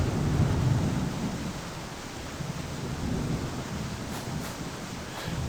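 Thunder rumbling during a storm in the video game Farmer's Life on PS5, a deep rolling swell that fades over several seconds, with a steady hiss of rain beneath it and no speech.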